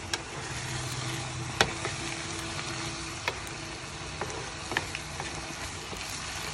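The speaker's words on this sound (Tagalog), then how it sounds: "Haluin uli." Beef and broccoli being stirred Chinese-style in a pan with a little sesame oil, a continuous close sizzle broken by sharp scraping and tapping of the spatula every second or so.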